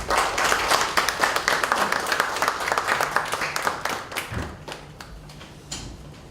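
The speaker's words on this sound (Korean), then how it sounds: "큰 박수로 환영 부탁드리겠습니다" An audience at an open data forum seminar on election data journalism applauds to welcome a speaker, a dense burst of clapping that gradually thins and fades out near the end.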